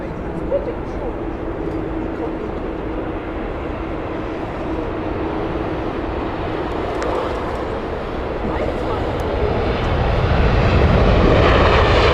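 A United Boeing 787 jet roars as a broad engine rush that grows steadily louder toward the end, heard outdoors at Heathrow Airport under a voice talking.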